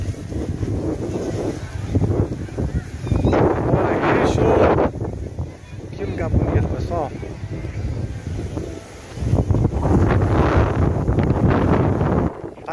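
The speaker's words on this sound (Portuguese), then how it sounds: "Mas está ventando demais." Strong wind buffets the microphone in gusts at Barra de São João beach in Casimiro de Abreu, roaring loud and rough throughout, while someone talks over it.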